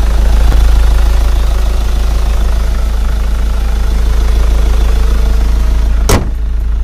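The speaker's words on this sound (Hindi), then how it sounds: "जो कि बहुत ही पावरफुल इंजन है। ये इसके साउंड है," A 2020 BS6 Mahindra Scorpio S-9's mHawk turbocharged diesel idles loudly and steadily close up, a continuous low rumble with a brief sharp click near the end and no talk.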